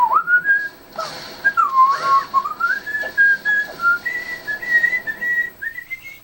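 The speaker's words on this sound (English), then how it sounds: "there I go with my whistling again" A person whistles a wandering melody during Zelda: Wind Waker gameplay, a clear, close tune of sliding and held notes that runs steadily for the whole stretch.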